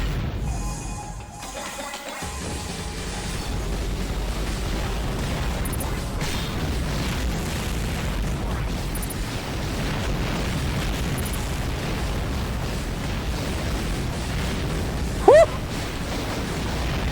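Missile explosions rumble in a video game boss fight, a steady, low, continuous roar of blasts that stays loud throughout, broken only by a brief quieter gap near the start.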